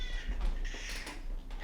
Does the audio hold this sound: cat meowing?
yes